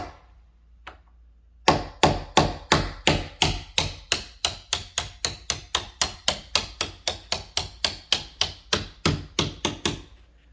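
A door hinge pin is gently tapped out with a hammer: a long, steady series of about thirty sharp, close metallic taps at an even rhythm, each decaying quickly, with no talking.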